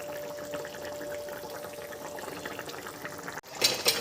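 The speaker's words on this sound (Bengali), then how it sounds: "ঝোল অলরেডি ফোটা শুরু হয়ে গেছে।" Broth for a vegetarian dal curry with green chillies boiling in a pot, a steady soft bubbling hiss, then a brief clatter near the end.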